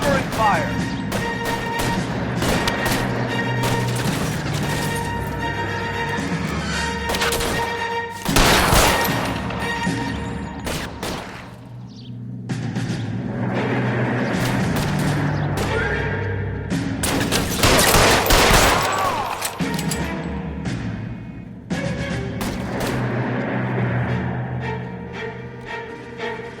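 Gunfire from a shootout in the LA Noire video game, with several loud blasts in bursts and sustained volleys over a dense, busy mix, while voices talk through parts of it.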